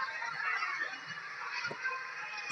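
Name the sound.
ducks at a cricket ground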